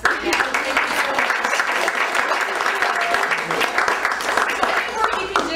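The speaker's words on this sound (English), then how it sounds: "big round of applause for Annette" Lively audience applause for a presenter at a WordPress workshop, a steady dense wash of clapping lasting several seconds with a few voices mixed in.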